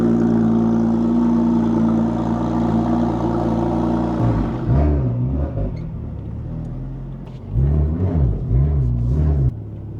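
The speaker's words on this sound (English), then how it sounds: "So not only is the idle absolutely spot on right now" A Porsche 996 Turbo engine idles at first with a steady low drone, then the note drops and wavers with a few rhythmic surges and dips, heard up close without talk.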